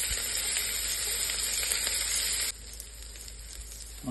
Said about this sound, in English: Add the onion, carrots, and celery. Cook them until they get soft.